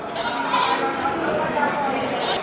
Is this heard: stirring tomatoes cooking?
no